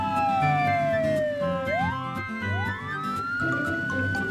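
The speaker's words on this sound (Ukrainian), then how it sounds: "Це поліцейська машина." A cartoon police car siren wails nearby, its pitch sliding down and then sweeping back up in long rising and falling cycles, loud and continuous.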